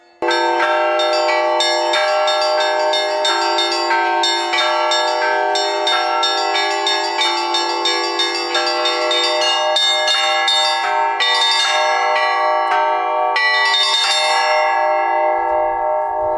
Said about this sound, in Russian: Звонари соревновались в своем искусстве по очереди на колокольне часовни и на малой звоннице